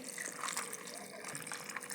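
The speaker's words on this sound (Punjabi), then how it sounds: "ਆਪਾਂ ਇਹਦੇ ਚ ਪਾਣੀ ਪਾਵਾਂਗੇ" Water is poured onto dried soybeans in a vessel, making a faint, continuous splashing and trickling rush that lasts the whole short stretch.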